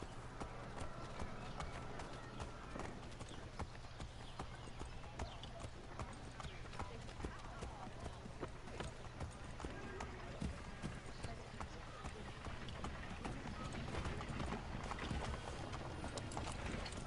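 Horse hooves clip-clop steadily in Assassin's Creed III, a continuous galloping-pace patter running the whole stretch beneath ambient game sound and occasional talk.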